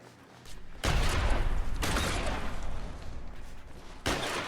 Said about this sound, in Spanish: ¿Por qué me dispara aquí yo?